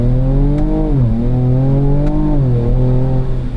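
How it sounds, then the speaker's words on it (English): A loud, close V6 engine drone from a 2024 Ford Ranger Raptor with its exhaust valve open, a deep exhaust note rising and falling in pitch as the truck revs and accelerates. "The V6 doesn't sound bad either. Yeah, no, with the exhaust valve open, it sounds quite good."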